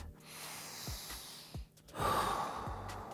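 A person breathing during a yoga stretch, with a few quiet, close inhales and exhales followed by a longer, fuller breath out, soft and without talk.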